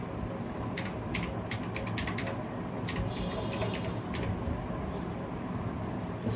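Someone typing an adb uninstall command on a computer keyboard, a steady run of quick clicky keystrokes in bursts with brief pauses, fairly close and alone over a low background hum.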